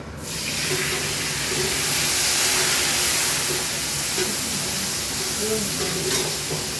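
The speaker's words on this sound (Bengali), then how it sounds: "টমাটো গরম তেলের উপরে টমেটো দিলে কালারটা এসে যাবে" Tomatoes hitting hot oil burst into a loud, steady hissing sizzle that holds throughout, with faint low voice murmurs underneath.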